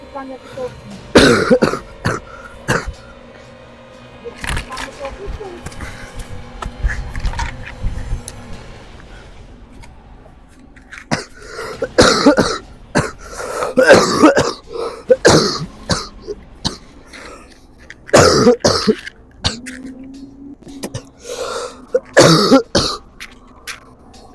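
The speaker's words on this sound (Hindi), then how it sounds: "खांसी आ रही है" Repeated harsh coughing fits and throat clearing, close and loud, come in bursts separated by short pauses and some quiet speech.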